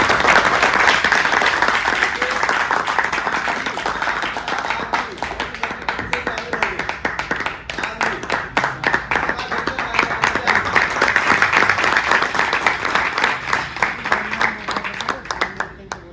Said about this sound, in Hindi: आज सबसे ज्यादा सर के लिए जबरदस्त तालियां होनी चाहिए।